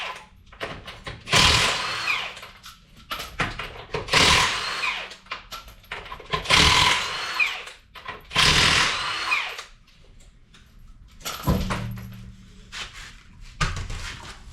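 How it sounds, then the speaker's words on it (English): Power tool bursts while pulling the front wheels off a Lexus GX460: several loud, whirring runs of an impact gun or drill separated by short pauses, with clanks of tools in between, no talk. "first thing we'll do is we'll just pull off the front tires"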